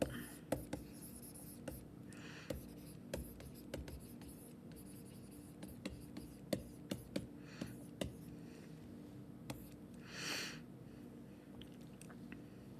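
Pen on paper writing out chemistry calculation steps: very quiet, close scratching strokes and scattered taps spread across the stretch, with a few soft rustles and no clear speech.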